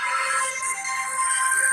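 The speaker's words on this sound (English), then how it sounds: "I got a phone call coming from somebody." A phone ringtone plays for an incoming call, a bright repeating electronic melody, loud and close, with no talk over it.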